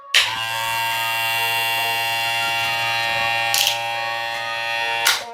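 A ROZIA HQ323 Magic Clip hair clipper, fitted with a replacement motor, runs with a steady, close electric buzz and strong mains-like hum, interrupted by two brief louder clicks or bumps near the end.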